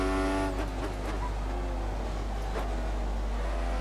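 A Formula 1 car engine in the racing game F1 2014, on the Belgium circuit, roars loud and steady at high revs. Its pitch drops sharply at an early gear change, then it keeps droning up through the gears.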